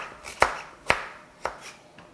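A knife chops through a pumpkin on a cutting board, four sharp distinct strikes spaced about half a second apart, close and crisp, with nothing else heard.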